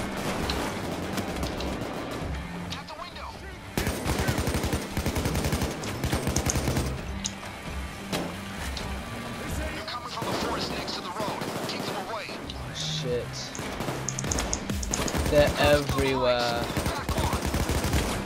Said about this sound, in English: Let's just start shooting everything in here.